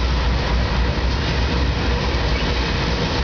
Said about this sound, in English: Here comes an old BNSF locomotive.